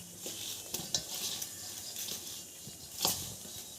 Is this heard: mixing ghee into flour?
yes